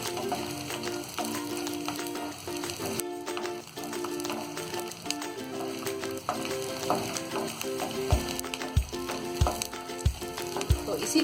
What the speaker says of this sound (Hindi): तो इसी तरह हम ये सारी गाद को तल लेंगे, निकाल लेंगे।